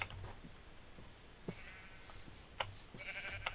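Sheep in a video game bleat several times in quick succession, nasal wavering calls with short gaps between them over quiet background, fairly close and clear.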